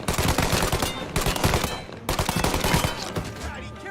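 Rapid, loud gunfire rattles in the video game Mafia Definitive Edition, dense bursts of shots running through four seconds with a brief pause around the two-second mark.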